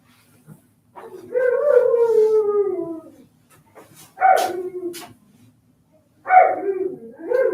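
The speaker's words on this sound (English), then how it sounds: "the Malamute on the door frame howling" A Malamute dog howls indoors in three long, wavering bursts separated by short pauses. The first howl slides slowly downward and the later ones rise sharply before trailing off, loud and close.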